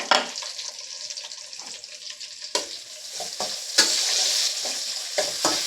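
Onions frying in a pan give a steady, close sizzle with repeated scraping stir strokes through it, the crackle swelling louder partway through; no talking.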